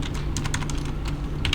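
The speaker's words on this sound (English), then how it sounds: "So we can do it by typing here my number" Rapid keystrokes clatter on a computer keyboard as code is typed, close and continuous over a low steady hum, with no talking.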